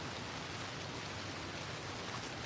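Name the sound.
rain falling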